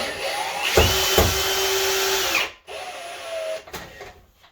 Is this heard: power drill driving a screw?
yes